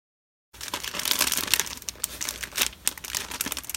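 Close crinkling and tearing of plastic and paper packaging as a Hero Arts monthly stamp and die kit is pulled open, irregular bursts of rustling after a brief silent start.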